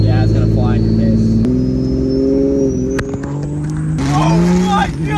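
A modified 4th-gen Cummins diesel Megacab truck with about 1000 horsepower spins its tires, its engine roaring loud and rising in pitch with a whining tone, as people talk excitedly over it.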